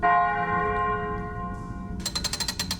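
A bell from a puzzle in the video game Dead Stop rings out with a rich, sustained metallic tone that slowly fades, then a rapid rattling, pulsing clatter takes over for the last second.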